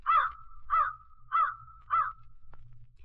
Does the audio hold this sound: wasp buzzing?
no